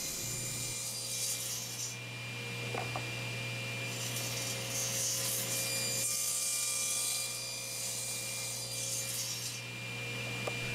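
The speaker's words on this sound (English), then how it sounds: "we rotate the box 90 degrees to cut the next slot" A table saw with a sled cuts spline slots into the corners of a mitered wooden box, giving a steady motor hum under a soft, rasping cut through the wood. The sound is fairly faint and continuous throughout.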